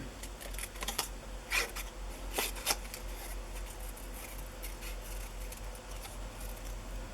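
Scissors snip through paper in fussy, detailed cutting, a few sharp close-up clicks spaced irregularly over quiet room tone, with no voices.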